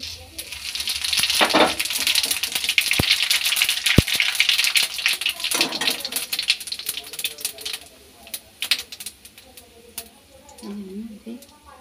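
Cumin seeds hit hot oil in a wok already holding dried red chillies and bay leaves. They burst into dense, rattling crackles and pops, loudest at first and thinning out later, with a voice faintly present.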